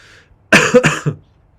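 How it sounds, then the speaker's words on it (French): A single close, harsh cough in two or three quick bursts, heard alone against near silence. "je vais sûrement tousser"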